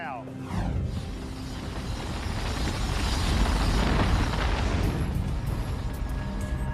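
A snow cannon blows a powerful, continuous roaring blast of air and spray, loud and steady throughout, like a machine blowing hard nearby.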